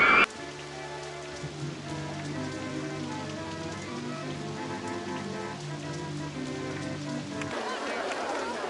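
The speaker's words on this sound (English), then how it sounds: "the rain." Steady rain falls in the theme-park game OpenRCT2, a continuous soft hiss of drops that runs through the whole stretch under background game music.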